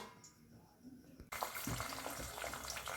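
Eggs frying in a home kitchen pan, a steady sizzle starting abruptly after a quieter first second and continuing close and fairly loud to the end, with faint clatter underneath.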